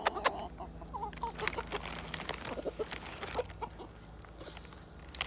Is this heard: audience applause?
no